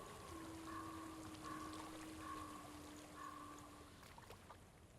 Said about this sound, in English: Water sounds leaving me.